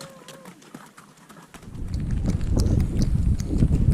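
Pack horses on the Salkantay mountain trail toward Machu Picchu walk past, their hooves clip-clopping in an irregular, rising rhythm as they draw near, with faint birdsong early on.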